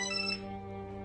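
A phone ringtone plays a steady, sustained electronic tone, close and clear, with no voices over it.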